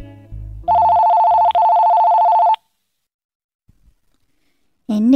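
A telephone bell rings in one loud sustained burst of about two seconds, with a brief break midway, then stops into near silence before a voice starts at the end.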